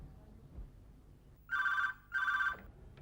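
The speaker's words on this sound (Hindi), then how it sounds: "तुमने इतने सवेरे सवेरे फोन किया?" A telephone bell rings twice in clear, evenly spaced bursts, loud and close in a quiet room, with a short pause between the rings.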